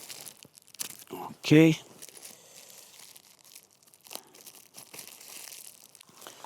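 A plastic bag of bolts for a Honda Transalp 750 rear rack torn open, giving a short loud crinkling rip amid scattered rustling and brief speech.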